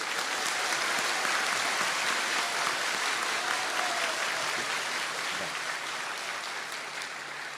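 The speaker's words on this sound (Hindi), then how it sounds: "इन तीनों मुस्लिम भाइयों के लिए जोरदार ताली" Loud, sustained applause from an audience at a religious court gathering, dense rapid clapping filling the whole stretch and easing slightly toward the end.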